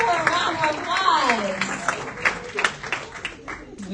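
Audience applause during a quiz-style talk, a burst of clapping from a crowd rising under a voice and continuing with scattered claps as he keeps speaking.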